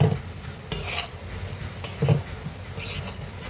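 Bitter gourd curry with a little sugar frying in a pan, a faint sizzle broken by a few distinct scraping stirs and utensil clinks, with no talking.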